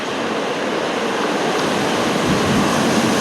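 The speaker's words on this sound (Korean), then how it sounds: "그래서 지금 파도가 이렇게 많이 치는 거 아닌가 싶습니다" Ocean waves crash onto the shore ahead of an approaching typhoon, a loud, continuous surf roar close by with rising, rolling swells and no voices.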